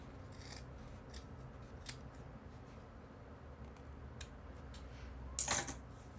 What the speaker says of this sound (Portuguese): Vou cortar o excesso que ficou aqui de manta